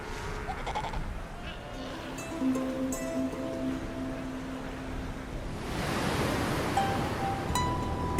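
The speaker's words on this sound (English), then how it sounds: "the wind is whipping up the waves" Wind-whipped ocean waves break at Punta Norte in the Galapagos, the surf swelling into a broad, close roar in the second half, after a stretch of bleating animal calls.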